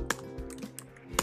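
Quick keystrokes on a computer keyboard as email addresses are entered, a handful of crisp, irregular taps close by in a quiet room.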